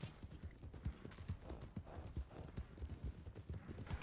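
Video game horses gallop away with riders on their backs, a rapid rhythmic clip-clop of hooves on hard ground, fairly close and steady, with faint background noise.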